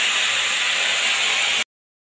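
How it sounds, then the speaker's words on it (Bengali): Pieces of Gangetic fesa fish fry in hot oil with a loud, steady, close sizzle that stops abruptly, with no talking. "আবারও অল্প করে মাছ দিয়ে দেবো তেলের উপরে।"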